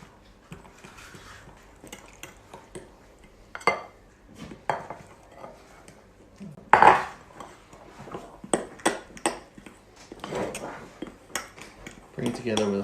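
Potato roll dough gets mixed with a fork in a bowl: irregular clinks and scrapes of metal against the bowl arrive in bursts, with one sharp ping partway through, all fairly close and clear.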